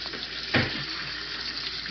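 Hot water pours from a kitchen tap onto meat being rinsed of fat, a steady close splashing rush with one brief heavier gush partway through, no voices.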